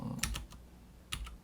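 Keys tapped on a computer keyboard while a button name is entered, two short clusters of close, crisp clicks separated by a quiet pause, with no talking.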